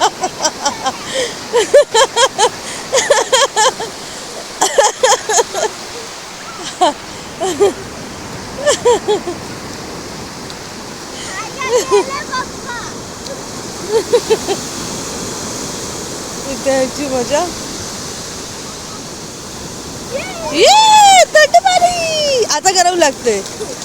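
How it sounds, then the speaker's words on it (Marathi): People splash salty seawater at each other on a Konkan beach, with steady surf washing underneath. Repeated bursts of splashing come through, and excited family voices shout and laugh throughout. "कोण जास्त पाणी उडवते बघा"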